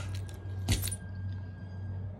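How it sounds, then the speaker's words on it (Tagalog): Keys jangle in one brief metallic rattle near the start, close and fairly clear over a steady low hum. "Ayan na po ang susi ni San Pedro."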